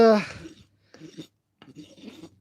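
A rasp filing a hoof during trimming, two short scraping strokes after a brief burst of voice, close and moderately loud.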